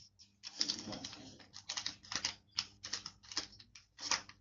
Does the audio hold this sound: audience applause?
no